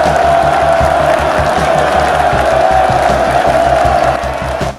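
A festival crowd of nearly 200,000 people cheers in a loud, sustained roar that fills the whole stretch, then eases slightly at the very end.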